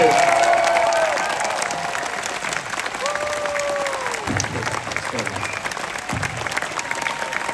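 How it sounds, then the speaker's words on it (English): An audience at a Project Area 51 convention panel applauds Doctor Who and Hobbit actor Sylvester McCoy, a steady sustained clapping that fills the room, with a few faint whistles near the start. "Please give it a huge round of applause for Mr. Sylvester McCoy."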